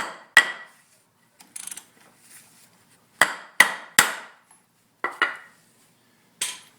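A length of 2x4 lumber is used as a mallet to knock an ATC250ES swingarm part into place, producing sharp, ringing wooden-metal thuds in irregular bursts with quiet gaps between them, loud and close, with no talking.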